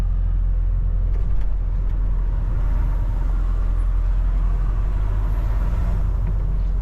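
A car engine and tyres rumbling along a narrow street lined with buildings and trees, a loud, steady low drone that stays close throughout with no talking.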